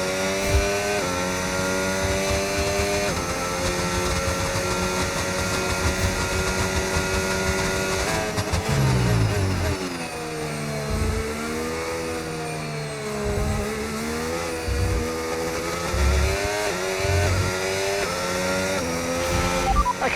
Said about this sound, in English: Up to speed now, let's get some heat into those tyres.